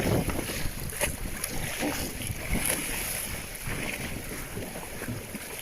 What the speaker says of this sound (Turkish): Gayet güzel dalgalar var.